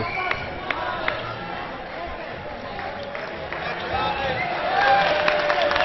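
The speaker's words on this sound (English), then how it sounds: "Quick acknowledgement to the crowd who woo him so." Handball crowd at a men's Euro 2014 match between Sweden and France sends up a broad, sustained wash of cheering and rising wooing voices, with scattered claps and sharp court sounds mixed in.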